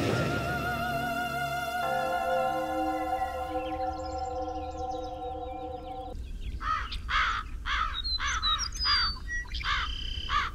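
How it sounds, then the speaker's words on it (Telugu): Several crows caw in harsh, repeated calls toward the end, following a stretch of sustained tonal sound with steady background noise. "ఉదయం నుంచి కాకులు అరుస్తున్నాయి"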